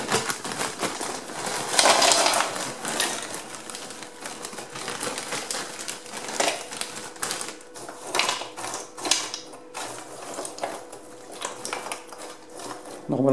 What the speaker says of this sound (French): Donc on va mettre les frites.